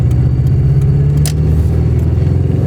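A 1990s Mazda 323 hatchback engine drones loud and close as the driver floats through the five gears without using the clutch, the steady rumble shifting pitch slightly with a brief rev flare.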